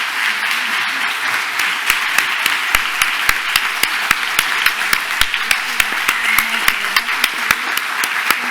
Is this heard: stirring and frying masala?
no